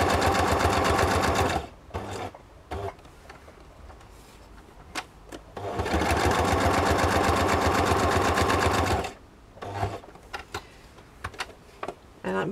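Sewing machine running a straight stitch with dark green thread on botanical-themed paper ephemera, in two long steady bursts of rapid mechanical chatter separated by pauses with light clicks and handling noises.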